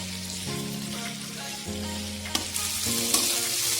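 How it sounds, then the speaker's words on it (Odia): Chopped onions fry over a high flame in a pan, giving a loud, steady sizzle throughout, with a few sharper crackles and clinks near the end. "ପିଆଜ ଗୁଡ଼ିକ ପକାଇ ଆମେ ଏହାକୁ 2 ମିନିଟ୍ ପର୍ଯ୍ୟନ୍ତ ଭଲ ଭାବରେ ଭାଜିବା।"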